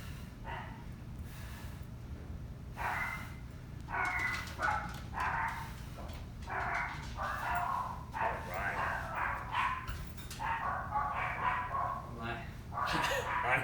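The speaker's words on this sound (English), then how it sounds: "Sorry about the dog chatter." A dog barks and yips in repeated short bursts, indoors at home, mixed in with people talking and steady low background hum.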